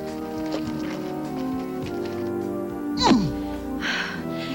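Horses moving about nearby with scattered hoof clops and shuffling, and a brief sliding whinny-like cry midway, with faint background voices.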